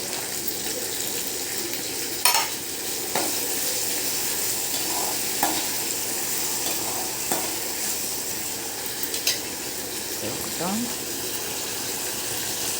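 Halved young turkey berries and garlic frying in oil for a tamarind curry, a steady sizzle with occasional stirring clinks and scrapes throughout.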